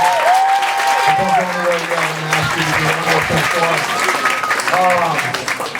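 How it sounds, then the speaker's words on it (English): An audience bursts into sustained applause, dense clapping filling the room while tonal voices and a low sustained tone sound over it, loud and continuous from start to finish. "Let's give him one more round of applause."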